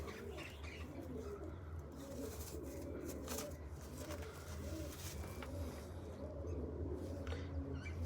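Pigeons coo softly in a low, repeating rhythm, faint and somewhat distant against a steady background hum, with occasional small chirps.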